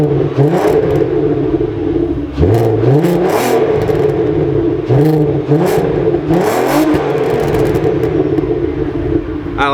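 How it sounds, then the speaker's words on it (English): A VW Mk4 R32 with a Magnaflow cat-back exhaust is revved repeatedly near the tailpipe, several rising and falling engine blips over a rumbling idle, loud and close. "let it warm up and get some revs"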